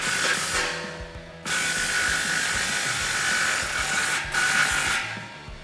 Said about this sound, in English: grab your 15 deep socket and tighten it down.